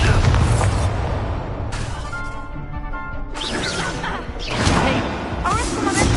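In a wizarding video game duel, an Incendio fire spell is cast: loud whooshing bursts and crackling booms in several blasts, with voices shouting amid the clash.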